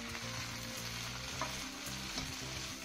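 Chickpeas going into a sizzling pan of sweet and sour vegetable stir fry with broccoli, a dense, even frying hiss with faint stirring clicks, close and continuous, no speech.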